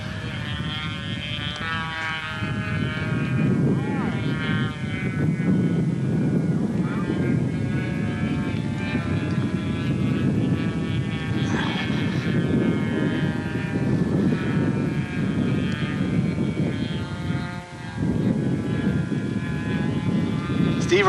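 A Simitar radio control model airplane flies with a steady, buzzing propeller-engine drone that holds nearly constant for the whole stretch, with a brief dip near the end, while people talk over it.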